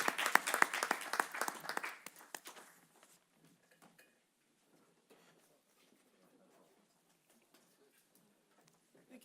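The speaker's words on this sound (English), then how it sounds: "let's give a big round of applause to these wonderful panelists" At a social business academic forum, an audience applauds the panelists in a short burst of clapping that fades out after a couple of seconds, leaving near silence with faint scattered sounds.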